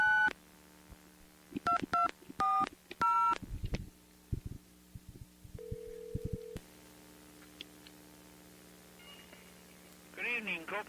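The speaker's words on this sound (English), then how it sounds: "So here's the phone call." Several telephone keypad tones beep in quick bursts during a prank phone call on a 2001 comedy talk show. A steady tone and line noise follow, then faint voices come in near the end.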